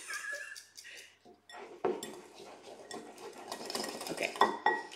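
A metal whisk scrapes and clinks against a bowl, softening miso with short irregular strokes and taps, close and fairly quiet, with no talking.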